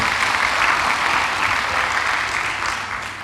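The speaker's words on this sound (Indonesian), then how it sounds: "Yuk beri tepuk tangan yang meriah buat Tuhan" A church congregation claps loudly during a sermon, a dense, even roar of hands that holds steady and then starts to taper off toward the end.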